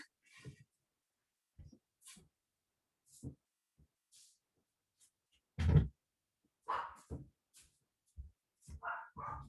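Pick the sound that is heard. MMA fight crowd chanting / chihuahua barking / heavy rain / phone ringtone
chihuahua barking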